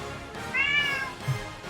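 A single short, clear meow from a cat, rising then falling, heard once against quiet background noise with a soft bump shortly after.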